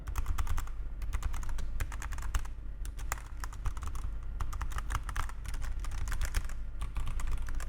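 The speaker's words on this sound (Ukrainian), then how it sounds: "Послухайте, як тихо працює клавіатура." Soft, muted key clicks patter rapidly and continuously as someone types steadily on an A4Tech Bloody S98 keyboard, over a low background hum.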